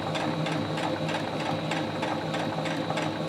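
A sewing machine stitches fabric along a marked line on a square piece, running steadily with a fast even needle rhythm throughout, close and loud, with no voices over it.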